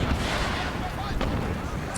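Battle din of a Madrid siege in Empire Total War (Darthmod): dense, continuous rumble of distant musket and artillery fire, steady and loud across the whole moment with a couple of sharper cracks.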